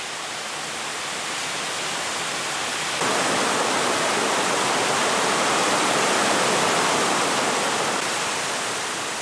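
A cool mountain valley stream flowing along a summer hiking trail, a steady broadband rush of water heard close and continuous, without any voices.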